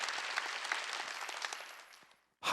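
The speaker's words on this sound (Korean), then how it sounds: "그 일본의 모든 선교사들 수고한 분들에게 박수를 좀 보냅시다" Applause from a church congregation at a Wednesday worship service, honoring missionaries in Japan: broadband clapping fills the room, fades out near the end, and a short loud burst follows.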